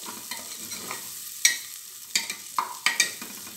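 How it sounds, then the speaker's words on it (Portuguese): Calabresa sausage frying in oil in a pan, with a low steady sizzle broken by several sharp pops and spatters, close by and no voices. "Vou deixar ela fritar bem aqui,"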